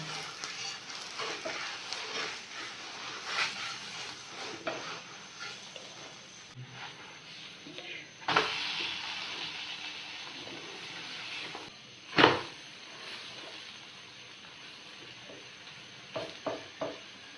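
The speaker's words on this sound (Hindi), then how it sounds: "कलर आने तक आपने इसे फ्राई करना है।" An aloo paratha fries in a pan with a soft, continuous sizzle and occasional scraping and turning sounds, including a couple of sharper hissing flares, heard close and without talk.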